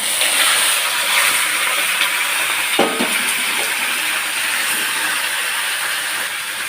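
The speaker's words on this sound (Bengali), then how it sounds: "তেল দিয়ে ভালো করে ভেজে নেব আমি আগে লেবুর রস মাখিয়ে রেখেছিলাম চিকেনে যে চিকেনটা আগে আমি ভেজে নেব" Chicken pieces marinated in lemon juice, salt and turmeric fry in hot oil, giving a steady, loud broadband hiss and sizzle throughout with one brief clatter near the middle and no talking.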